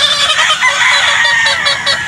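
A Gilmore gamefowl rooster at a game farm in Batangas crows and clucks loudly and close by, a steady run of harsh calls with no talking.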